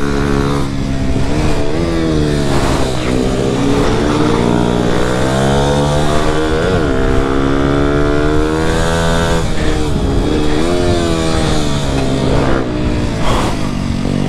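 A borrowed motorcycle roars close by while being ridden, its engine note rising and falling through repeated revs and gear changes over a constant loud drone.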